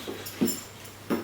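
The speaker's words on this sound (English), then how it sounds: "Sorry, excuse the dog. He just wants it on the videos." A dog whimpers and snorts in short breathy bursts during an indoor workout session, faint and close, three brief sounds with no talking.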